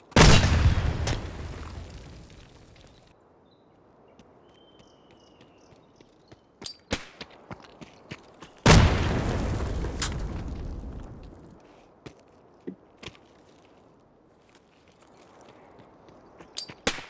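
A grenade on a tripwire detonates in the combat game Escape from Tarkov: two heavy, booming blasts several seconds apart, each decaying slowly, with sharp clicks, thuds and footstep-like taps scattered in between.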